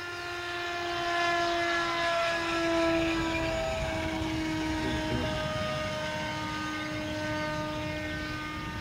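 A radio-controlled model aircraft flies past, its propeller engine a steady, fairly loud tonal drone that shifts pitch slightly as it moves, with no talk over it.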